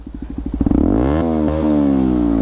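A modified motorcycle engine idles with a loud, lumpy thump, then revs sharply and holds a high, rough roar close by.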